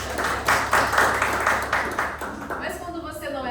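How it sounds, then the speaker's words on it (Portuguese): Broadband audience applause at a Brazilian TV program, for a guest named Marcel, with a voice speaking over it; the applause fades into clearer talk near the end. "Uma salva de palmas para Marcel."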